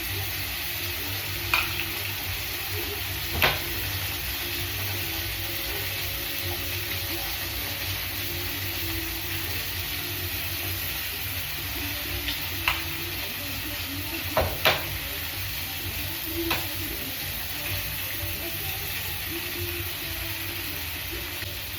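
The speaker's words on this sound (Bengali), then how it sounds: "একটুখানি ম্যাগি মশলা দিলাম, ভালো করে ভেজে দিলাম।" Three eggs with green peas frying in a pan for egg bhurji, a steady low sizzle under a few sharp clicks and scrapes of stirring, close by and with no talk.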